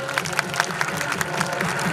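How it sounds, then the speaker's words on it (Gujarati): An audience at an Ambaliya family community gathering claps for the IT team members, a steady patter of many hands at moderate distance, with murmured voices underneath. "આ બધા આઈટી ટીમના મેમ્બર માટે જોરદાર તાળી થઈ જાય"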